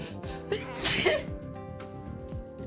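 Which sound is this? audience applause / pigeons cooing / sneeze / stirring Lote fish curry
sneeze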